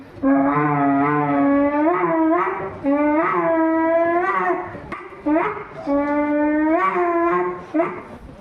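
A person's voice mimics dogs, with drawn-out whining howls and yelps repeated in several long wavering calls, loud and close, performed on stage at an inter-house school cultural competition.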